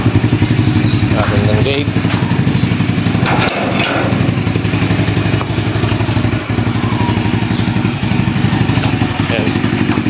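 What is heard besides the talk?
Raider 150 motorcycle engine running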